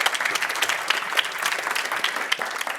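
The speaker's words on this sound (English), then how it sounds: "have a great applause to our amazing guests, Johanna, Emmy, and Andy." A conference audience applauds panel guests in steady, dense clapping that fills the room, close and fairly loud, with no talking over it.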